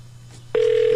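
Outgoing phone call: a low line hum, then a steady electronic ringback tone starts abruptly halfway through and holds at an even level, with no one speaking.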